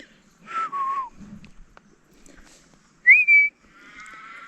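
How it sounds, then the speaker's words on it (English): Outdoors in Tasmania, a person gives a few short, clear whistles toward wild animals: a falling tone first, then a sharp rising one a couple of seconds later, with quiet gaps between. "you can't whistle at them"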